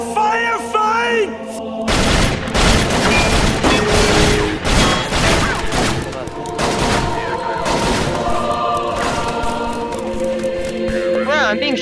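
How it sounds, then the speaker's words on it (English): Many shooters open fire at once in a video game firefight, a dense, loud fusillade of rapid gunshots and crashes that runs almost continuously, with voices shouting over the noise. "Wow, I'm being shot at by so many."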